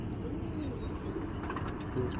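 Racing pigeons coo softly while they are stamped before a tournament flight, giving faint, short, low calls over quiet background noise.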